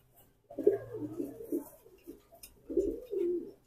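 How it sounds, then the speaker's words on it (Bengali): Silver aluminium pigeons coo close by in two rolling, throaty bursts separated by a short pause. "অ্যালুমিনিয়াম কবুতর দেখেন মাশাআল্লাহ।"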